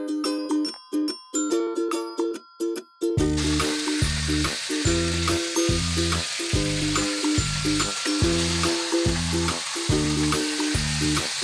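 Chicken fries in hot oil with a dense, loud sizzle that swells in rhythmic bursts, broken by repeated chiming tones near the start.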